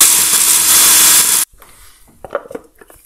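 A power tool cuts threaded rod during a custom turbo install on a Seicento Abarth 1.1, giving a loud, harsh, steady grinding whine for about a second and a half before stopping abruptly, followed by faint handling knocks.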